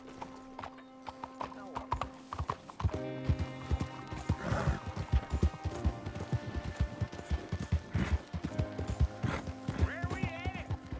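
Horse hooves gallop at a steady clip-clop through an open-world western setting in Red Dead Redemption 2, with occasional whinnies and a voice talking over the ride.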